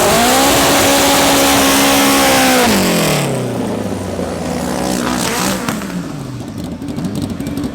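Race cars, an all-motor Opel and a turbocharged B18C Honda CRX, roar loudly at close range, engines revving high then dropping in pitch as they pull away down the track at a raceway event.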